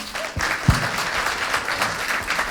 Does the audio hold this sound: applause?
yes